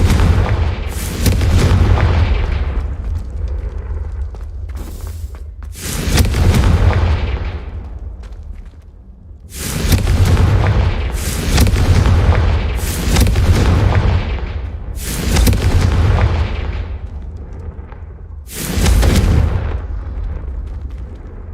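Repeated booming Confringo spell explosions from the Hogwarts Legacy video game, about six loud bursts at irregular intervals, each with a sharp crack that decays into a rumbling tail, no talking over them.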